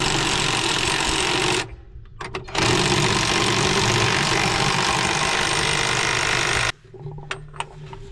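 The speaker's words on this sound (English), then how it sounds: "So we'll get the impact on and then we'll get the ratchet on there." A power impact wrench runs in two long, loud, buzzing bursts while tightening bolts on a 1066 spring planter, separated and followed by brief quiet gaps with small clanks.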